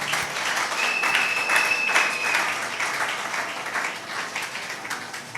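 A church congregation applauds together during an anniversary service, a dense, steady wash of many hands clapping that fills the room, with a faint high whistle-like tone briefly above it.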